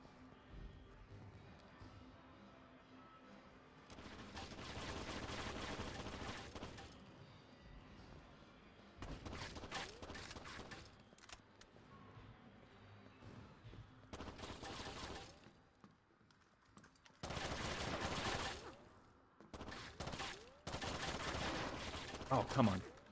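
Bursts of rapid automatic gunfire from a gun in the video game Rainbow Six 3, played on the original Xbox Live, coming in several sustained volleys with short pauses between them and a speaking voice in places.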